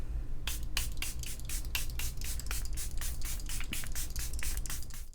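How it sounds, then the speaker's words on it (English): A makeup setting spray is pumped in a quick run of about a dozen short, even, hissing bursts, close and fairly quiet, with no talking. "so I'm gonna go ahead and spray real quick"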